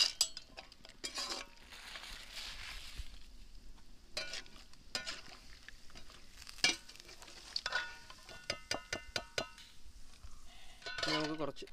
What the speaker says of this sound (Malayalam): ഇനി നമുക്കിതിലേക്ക് കുറച്ച് ക്യാഷ്നട്ട് ഫ്രൈ ചെയ്തെടുക്കാം.